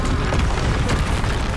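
A Bombarda blasting spell explodes in a Harry Potter video game, a loud, dense, continuous rumbling boom that fills the whole moment without a break.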